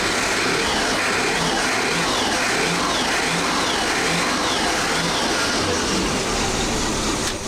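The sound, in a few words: Mercruiser sterndrive boat engine starting and revving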